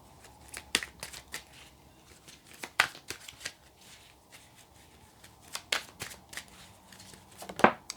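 Tarot cards being shuffled by hand close up, a run of crisp riffling snaps and papery slaps in uneven bursts, with quieter handling rustles between them and no talking.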